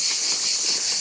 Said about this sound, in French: Ça fait chier ces cons de cigales là.